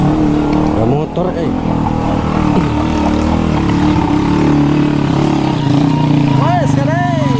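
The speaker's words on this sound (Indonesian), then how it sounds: "Ada motor" A motorcycle passes along a village road near Sukabumi, its engine rising and falling as it goes by, while a voice talks over the passing and a second vehicle whines up near the end.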